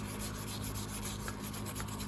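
An old toothbrush scrubs Jasco paint remover on a Yamaha Raptor 660R ATV wheel, a steady close bristly rubbing at low volume, continuous and even, with no voices.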